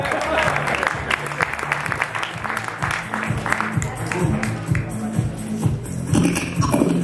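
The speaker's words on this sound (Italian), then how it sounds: "Un applauso a Thomas Blackthorn." Audience applause for Thomas Blackthorn at a Guinness record show, crowd clapping heard over loud pulsing background music with a strong low beat.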